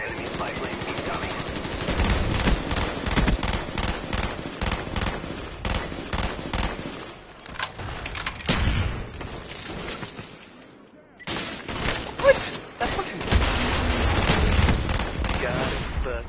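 Rapid automatic gunfire from a Call of Duty Black Ops multiplayer match rattles in dense, loud bursts, broken by a brief lull before the shooting resumes; a player's voice can be heard under the gunfire at times.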